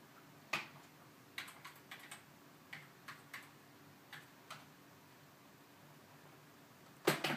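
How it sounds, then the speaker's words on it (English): Sparse clicks of keys pressed on an original iMac G4 keyboard, a dozen or so taps spaced unevenly in a quiet room, ending with a louder clatter. "let me just take the keyboard here just to log in"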